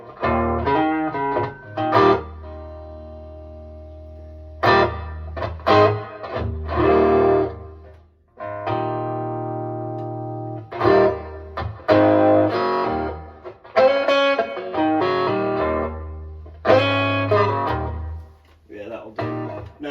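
An electric guitar plays through a Line 6 Spider IV amp set to plate reverb, with distorted chords and notes struck in bursts and short pauses, each ringing out with a lingering reverb tail, loud and close.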